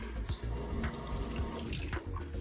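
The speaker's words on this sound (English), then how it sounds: "Okay, and then wash my hands." Hands washed under a running sink tap while box-dyeing hair: a continuous gush of tap water with splashes and brief spatters as the hands move through the stream, steady and close, with no voices.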